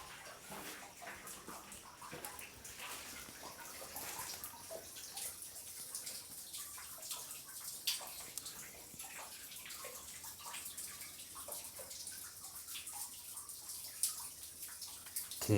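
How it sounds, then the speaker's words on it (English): Water runs and trickles inside an abandoned fountain in Pittsburgh, Pennsylvania, a steady faint hiss with scattered drips and splashes, heard up close in an enclosed space with no voices. "Can you guys hear the water?"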